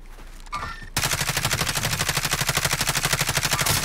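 Rapid, steady bursts of rifle fire in Call of Duty Warzone, an SP-R 208 marksman rifle setting, with sharp repeated reports after a brief quiet start, loud and close throughout.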